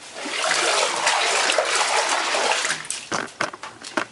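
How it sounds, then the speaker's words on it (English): A hand sweeps through bubbles in a bath of Aztec hot chocolate bath cocktail water tinted red with cinnamon pieces, producing close, continuous sloshing and splashing that breaks into a few short separate splashes at the end. "Let me, like, move some bubbles so I can show you the color of the water."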